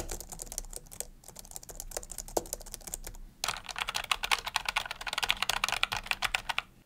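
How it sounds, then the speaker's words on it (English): Rapid, steady typing on a Logitech MX Mechanical keyboard with brown tactile switches, crisp, clicky keystrokes, close up, briefly pausing before a louder, faster burst. "I chose the brown tactile switches, although compared to the MX keys, it is more audible,"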